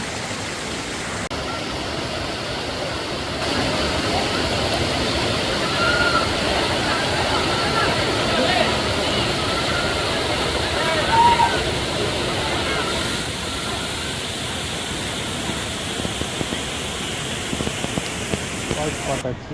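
Clean water pours steadily over a waterfall in the Javadhu hills, a continuous broadband rush that stays close and even throughout, with faint voices now and then beneath the flow.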